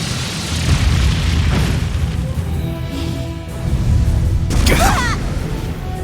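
A heavy booming blast from the Brionac weapon firing in the video game Trails of Cold Steel III, with rumbling explosions rolling through loud, dense battle noise.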